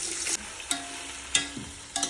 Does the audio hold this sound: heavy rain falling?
no